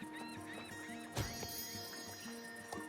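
A horse in a video game neighs in a rising and falling whinny, with clip-clop hoof sounds and other game noises around it, fairly quiet overall.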